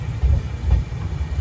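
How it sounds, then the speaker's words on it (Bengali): A train departs Malda station, heard as a short burst of deep pulsing rumble with uneven low thumps, fairly loud and close, with no talking. "এটা হচ্ছে মালদা স্টেশনে ট্রেন এগিয়ে গেছে"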